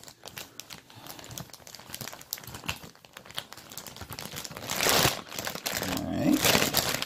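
Crinkling and rustling of plastic packaging around a Pokémon Snorlax bean bag chair being handled and pulled open, irregular crackles growing louder toward the end.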